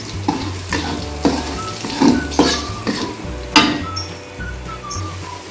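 Shredded cabbage and carrots are stir-fried in a pan for stuffed tofu, a steady sizzle under repeated close scraping and clanking strokes of a utensil against the metal, roughly one every half second to second.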